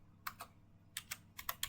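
Command typed on a computer keyboard, a few crisp close keystrokes in small clusters, then a quicker run of taps near the end, alone in a quiet room.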